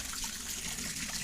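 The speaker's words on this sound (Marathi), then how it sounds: "हे पहा, जांभळीच्या झाडांना पाणी सोडलंय" Irrigation water released to flow around jamun trees, running and trickling steadily at close range for a brief moment, with no voices.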